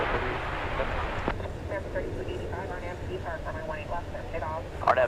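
An Envoy airliner approaches at DFW Airport, a steady broadband jet roar that stays fairly constant, heard under a person talking and a radio chirp near the end.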